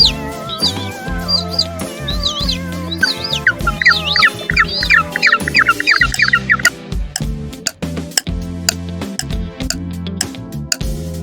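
Penguin calls, a run of squawking, chirpy cries set against rhythmic background music.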